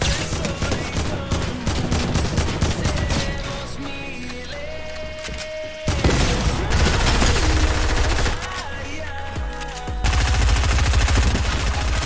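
Rapid bursts of gunfire from a heavy assault rifle in Fortnite, repeated loud volleys with short pauses between them, shots close and sharp, with a voice talking at times.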